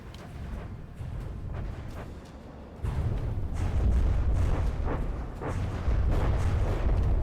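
Heavy cram cannons in From the Depths fire a booming volley, deep rumbling blasts stacking up and growing louder over several seconds, with no talk.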